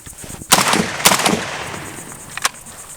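An AK rifle fires steel-case 7.62x39 rounds, three loud close shots spaced apart, each ringing out briefly against a quiet outdoor background.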